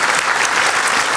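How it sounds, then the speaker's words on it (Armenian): Audience applause on a women's club television show, a dense, steady burst of clapping from a crowd, loud and continuous with no voices over it. "մեր բարձր ծափարությունները ձեզ"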